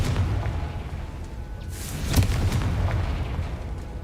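A fiery Confringo spell blast in Hogwarts Legacy, a single deep boom swelling about halfway through over a rumbling low backdrop, fairly loud and close, with no voices.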